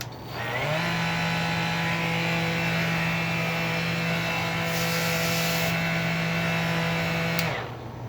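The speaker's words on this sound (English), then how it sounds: "whatever I plug this into will then automatically turn on the vac when I do this" A Festool dust extractor vacuum switches on automatically and runs at a loud, steady droning whine for several seconds before spinning down near the end, with no talking.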